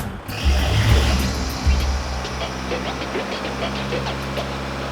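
A Kubota MU4501 tractor engine runs with its revs raised, giving a steady, loud diesel drone with a knocking vibration that eases slightly after an initial surge, with no talk over it.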